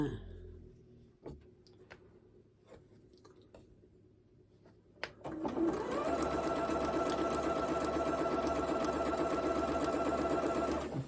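After a few quiet seconds of faint ticks and clicks, a sewing machine starts up and stitches a jelly roll quilt with a loud, steady, continuous whirring.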